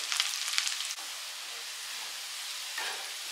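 Onions, curry leaves and chopped garlic fry in a pan for an Andhra fish curry, giving a soft steady sizzle with a brief brighter stirring burst at the start and again near the end.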